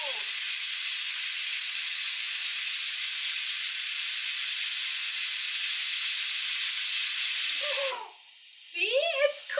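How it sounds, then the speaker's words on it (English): Pressure cooker on a stove releases a loud, steady hiss of steam while Indian food cooks, lasting about eight seconds before cutting off as a voice is heard. "scared of the cooker when I make Indian food"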